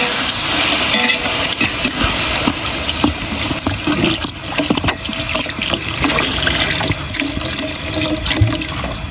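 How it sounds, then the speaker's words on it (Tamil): Water poured into a pot of sautéed onions and tomatoes while cooking kadai biryani, a continuous loud splashing and sizzling with clatter, steady and close for several seconds. "நம்ம தண்ணி ஊற்றிக்கலாம்."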